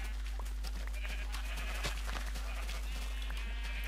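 Sheep bleating on a video game farm, several short faint bleats scattered over a steady low hum and background noise.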